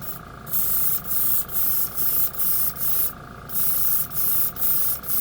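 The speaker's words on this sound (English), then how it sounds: "Once again, I'm using a lot of air. As you can tell, the compressor is running." Paint spray gun hisses in repeated bursts of roughly half a second, nine or ten times, over the steady loud drone of an air compressor running continuously, used to apply a tri-color paint finish.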